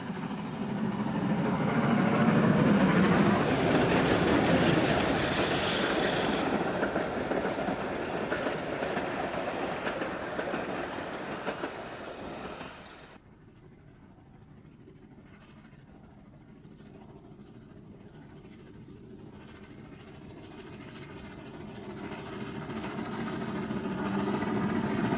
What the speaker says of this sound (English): the loco crew are quite prepared to let number 260 show her paces.